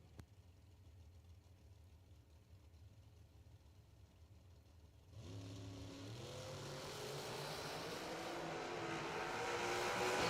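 A Carbondale, Pennsylvania based dragster launches down a drag strip, its engine roaring in at mid-clip after near silence and climbing steadily in pitch and volume as it pulls away.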